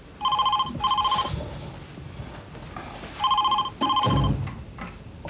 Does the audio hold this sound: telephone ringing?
yes